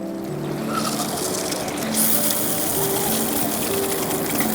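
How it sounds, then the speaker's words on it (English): Cold water gushes steadily from an RV shower nozzle, a continuous broadband rush over a low water pump hum, getting slightly louder partway through. "We got water, cold water right now."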